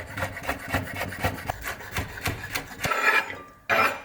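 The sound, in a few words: knife slicing celery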